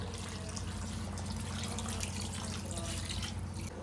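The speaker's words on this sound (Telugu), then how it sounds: "కొంచెం వాటర్ కూడా యాడ్ చేసేద్దామండి పులుసు కోసం." Water pours steadily into a pot of goat head curry in a continuous splashing stream, close and fairly loud, with no voices.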